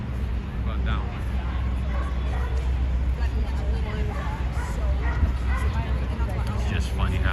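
Dogs bark intermittently at a dog park in Manhattan on an afternoon walk, fairly distant and partly buried under people talking and general city hubbub.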